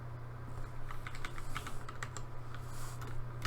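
Rapid typing on a computer keyboard while writing CSS code, a close, steady run of light key clicks over a low background hum, with no talking.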